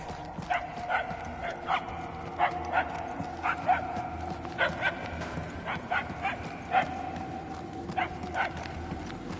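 A dog barks repeatedly in the distance, with short sharp yaps in an uneven rhythm over a steady rumbling background in a game setting.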